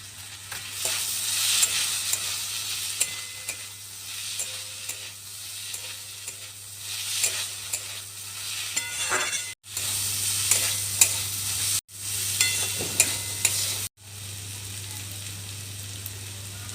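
Fried potatoes sizzle loudly in a pan as turmeric is added and stirred through for ghugni, a continuous close crackle broken by a few short pauses.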